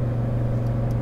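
A Lamborghini Huracan Performante engine on a race track in Las Vegas, a loud steady low drone as the throttle is squeezed, close and continuous with no voices.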